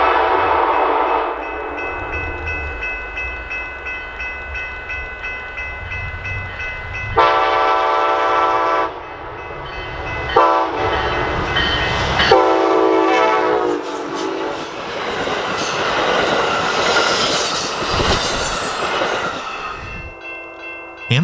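Amtrak train with Amfleet II long-distance cars passing close by, loud rumbling and rolling rail noise with a horn sounding and squealing wheels, building and shifting over about twenty seconds, no talk.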